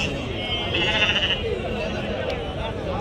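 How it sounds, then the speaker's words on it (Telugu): Young rams bleat repeatedly at a busy sheep market, with a steady crowd murmur and nearby voices talking throughout. "ఇవన్నీ పొట్టేల పిల్లలు"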